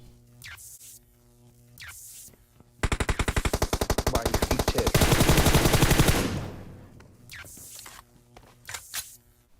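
Gunfire from PUBG Mobile: a rapid automatic burst of evenly spaced shots for about two seconds, then a denser, louder volley, with footstep-like clicks and a brief spoken remark around it.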